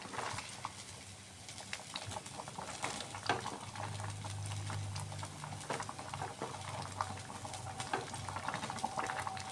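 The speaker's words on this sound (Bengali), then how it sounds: "সব মশলা দিয়ে আমি আবার মিক্সড করে নিচ্ছি।" Spices are stirred into vegetable mung dal in a pot, giving quiet, irregular scraping and clicking with soft wet sputtering underneath, close and low in level.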